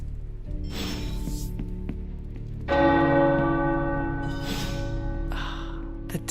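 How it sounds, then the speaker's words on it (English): Tower church bells toll in the Midnight Suns game, sounding as a few loud, resonant strikes whose long ringing tails overlap and fade. "The tower bells are ringing."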